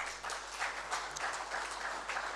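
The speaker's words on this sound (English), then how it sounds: "And they deserve a round of applause." An audience applauds smallholder farmers at a trade seminar hall, a dense, steady wash of many hands clapping, fairly soft and distant, without talk.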